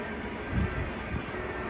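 A steady rumble of a passing train, heard as a continuous low roar of rail cars at a moderate distance, with no one talking.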